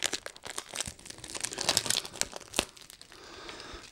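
Plastic protective film crinkling and rustling on a Divoom Tivoo Max pixel-design Bluetooth speaker during unboxing, with close, loud, irregular crackles and crunches throughout and no talking.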